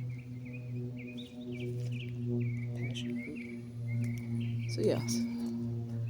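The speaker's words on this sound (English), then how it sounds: "you hear the birds chirping right now" Birds chirp in short repeated bursts in the background while someone talks steadily over them, with a constant low hum underneath.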